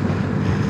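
Strong wind buffeting a motorcycle on the CAVITEX expressway, a dense continuous roar of rushing air against the microphone, loud and unbroken with no voices.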